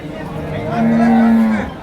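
A one-year-old calf lets out a single drawn-out moo, close and loud, rising then tapering off against a low murmur of background chatter at a cattle market in Ranebennur, Haveri, India.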